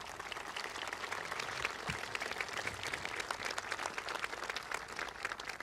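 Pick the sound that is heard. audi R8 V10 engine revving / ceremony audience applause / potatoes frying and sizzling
ceremony audience applause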